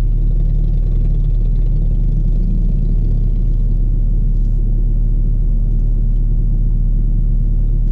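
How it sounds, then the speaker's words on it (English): Audi S3 engine idling while the car is stopped, a steady low rumbling hum heard close from inside the cabin, constant and unbroken with no talk. "So the car is still running even though I'm stopped right now."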